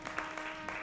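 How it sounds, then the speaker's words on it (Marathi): Cartoon characters clap their hands, a brief, faint run of a few soft, separate claps at an uneven pace over a quiet background. "यावर टाळ्या काय वाजवताय?"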